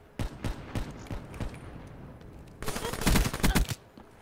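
Gunfire in the Black Ops 3 video game, a few spaced single shots followed by a dense rapid burst of automatic fire, loud and close.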